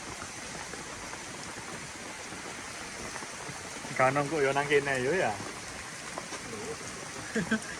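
Sudden heavy rain pours down on Mount Puthuk Siwur in Mojokerto, a steady dense hiss filling the whole stretch, with a short burst of nearby talk partway through.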